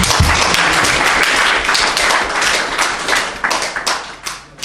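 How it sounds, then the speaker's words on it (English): An audience claps loudly for a women's football team at a Ghana Football Association launch event, a dense burst of many hands that stays steady and close, then thins and fades toward the end. "Can we clap for them, please?"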